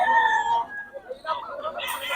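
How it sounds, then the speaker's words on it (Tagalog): A rooster crows among chickens kept by a poultry breeder, with harmonic calls near the start and more clucking and crowing following, while people talk nearby and other birds sound in the background. "Saka mga manok ni Boss Jun, no"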